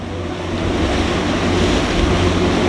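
Steady wind and rushing waves at sea aboard a fishing boat off Kaikoura heading out for bluefin tuna, a continuous broad roar with boat rumble beneath and no talking.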